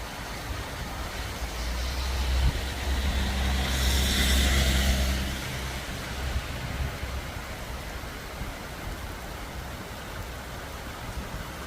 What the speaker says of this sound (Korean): 오늘은 비가 많이 내립니다.